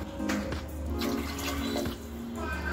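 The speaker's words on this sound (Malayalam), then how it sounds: "ഇനി ഇതിലോട്ട് വെള്ളം കൂടി ഒഴിച്ച് കൊടുക്കാം." Water pours into a cooking pot for green gram curry, a brief, soft continuous splashing and gurgle heard close by.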